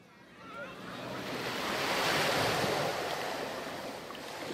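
Ocean waves washing onto a beach, a continuous broad rushing surf that swells to a peak midway and then eases slightly, with no voices.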